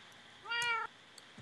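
A single clear meow from a cat in Minecraft rises and falls in one short tonal call over quiet background, with faint game noises around it and no talking.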